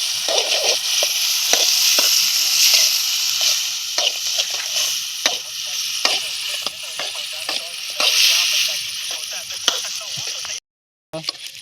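Chillies and tomatoes fry in a pan for Maggi noodles, giving a steady, close sizzle punctuated by frequent clacks of stirring, with a brief dropout near the end.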